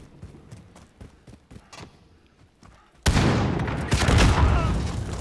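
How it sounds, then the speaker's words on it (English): A Call of Duty: Modern Warfare Search and Destroy round, where scattered sharp gunshots give way to a sudden loud rocket launcher explosion and a sustained roaring, crackling blast that fills the rest of the moment. "Got a fucking rocket launcher, he's fucking rocket launching me."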